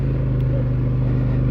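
Polaris Sportsman 850 ATV engine idling with a steady, low throbbing V-twin-like pulse, loud and close, running evenly throughout.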